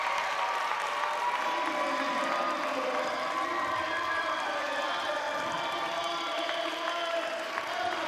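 A basketball crowd at Holy Angels applauds and cheers in a steady, dense wash of clapping and crowd noise that holds throughout, with faint voices mixed in.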